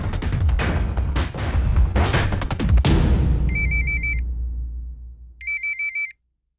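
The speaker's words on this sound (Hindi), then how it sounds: "तेरा फोन बज रहा है।" Electronic phone ringtone chirps in two short repeated bursts, following a loud rumbling, explosive sound that fades out.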